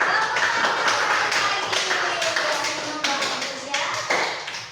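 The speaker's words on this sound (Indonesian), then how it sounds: "Tepuk tangan untuk kelompok kinestetik." A class of students claps for a presenting group in a classroom, a scattered, uneven patter of hands with distinct individual claps, while voices chatter underneath.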